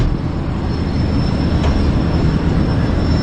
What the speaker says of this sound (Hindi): लाहौर छावनी रेलवे स्टेशन से ट्रेन जो है वो पास हो रही है